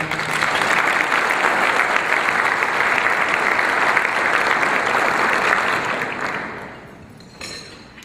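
Sustained applause from a crowd at an interfaith gratitude dinner, steady and dense for several seconds before tapering off, with a few scattered claps lingering at the end.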